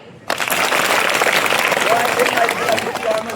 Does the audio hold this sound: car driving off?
no